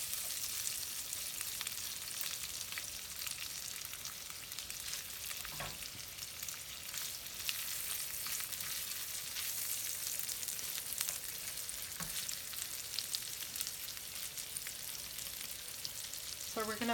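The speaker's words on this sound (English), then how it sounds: "So we're gonna finish cooking our longaniza" Longaniza sausage frying in a pan: a steady, dense sizzle and crackle that runs unbroken throughout, close and even, with a couple of faint clinks and no clear talking.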